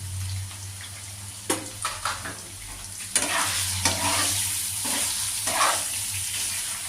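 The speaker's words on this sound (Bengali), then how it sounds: "আস্তে আস্তে পনিরগুলো ভেজে নেব হালকা করে" Paneer pieces with salt and turmeric fry gently in a pan, a continuous moderate sizzle broken by occasional scraping stirs and light knocks, close, over a low steady hum.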